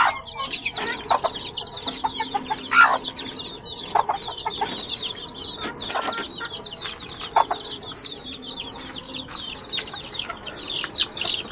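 Chicks in a poultry pen give dense, overlapping high peeps and clucks nonstop, with a few louder calls and background farm noise, no talk.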